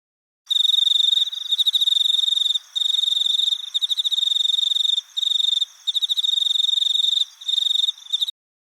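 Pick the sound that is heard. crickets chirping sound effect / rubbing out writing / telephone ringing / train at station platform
crickets chirping sound effect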